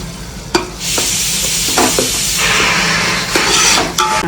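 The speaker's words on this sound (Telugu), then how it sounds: "అల్లం పేస్ట్ పచ్చి వాసన పోయేదాకా యాగనివ్వాలి" Ginger paste and onions fry in a hot pan with a steady bright sizzle. Clicks from a stirring spoon break in now and then, and no one speaks.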